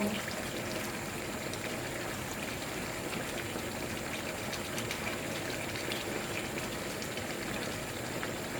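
Water bubbling and simmering steadily in a pan of Thai spicy catfish curry stir-fry, a dense, even hiss and burble that holds at constant loudness throughout.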